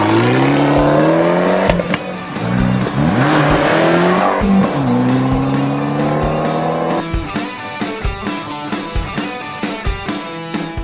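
A 2012 Fiat 500 Abarth's dual exhaust drones loudly as the small car accelerates through the gears, pitch rising then dropping at each shift, ending in a burbling, popping rhythm as it settles.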